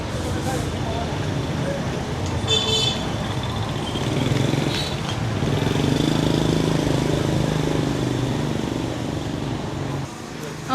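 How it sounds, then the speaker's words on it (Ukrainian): A morning traffic jam in a Vietnamese city, with a large bus stopped mid-road and motorbikes weaving around it: a steady rumble of engines with a short burst of horn honking near the start. "І тут затор утворився, що сьогодні ранок і затори по місту"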